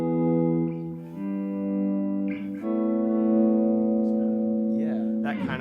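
An electric guitar rings out sustained, ethereal chords drenched in delay and reverb, each change blooming into a long shimmering tail; the notes play alone without talk.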